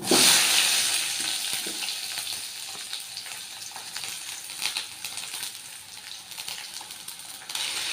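Onions sizzle and fry steadily in hot oil with mustard seeds for an egg curry, a continuous close crackling hiss with light stirring scrapes throughout.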